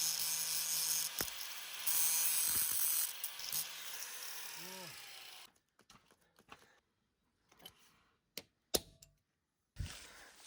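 Bicycle chain tool pushing out a chain link: faint close clicks and metallic ticks, then a quiet stretch broken by sharp isolated snaps and taps near the end, over a low steady background.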